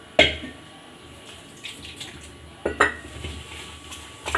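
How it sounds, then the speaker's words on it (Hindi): Idli batter is mixed in a bowl while water is added bit by bit. Two sharp utensil clinks against the vessel stand out, with soft scraping and quiet kitchen noise between them. "इसको मिक्स करूँगी, इसमें गांठें ना पड़ने पाएँ, इस तरह से मिक्स करना है इसको।"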